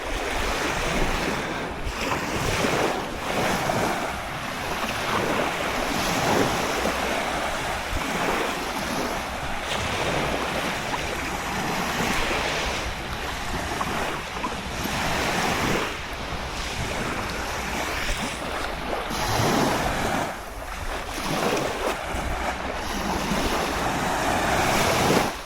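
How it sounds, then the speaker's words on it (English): Surf rolling steadily onto a beach at Hel, Poland, with continuous wave wash and wind buffeting the microphone throughout, no voices. "But it is quite an incredible beach,"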